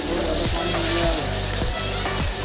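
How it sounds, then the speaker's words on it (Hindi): Steady hiss of rain falling, dense and continuous, with faint low tonal sounds and occasional soft thuds underneath. "It is raining right now."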